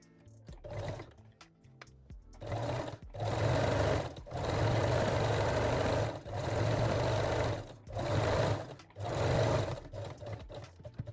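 A sewing machine binds fold-over elastic onto the edges of a lingerie bralette, running in several close, steady whirring bursts of a second or two each, separated by short pauses.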